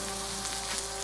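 A carrot sizzles in hot oil in a wok with a fine, continuous crackle, heard briefly and steadily with no voices.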